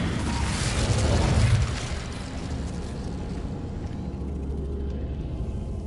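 An Incendio fire spell goes off in a video game, a loud whooshing burst that flares at the start and then fades into a lower, steady crackling rumble.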